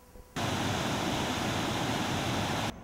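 Water rushing over the dam beneath the Burlington Street bridge on the Iowa River, a steady, loud broadband roar that starts abruptly and holds evenly before cutting off near the end.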